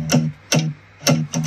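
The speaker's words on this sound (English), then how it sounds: "The main guitar in the build is actually a pitched down acoustic guitar" Pitched-down acoustic guitar run through effects in an electronic song build: four short plucked hits in a steady rhythm, each with a bright attack and a brief low tail, close and clear with no voice.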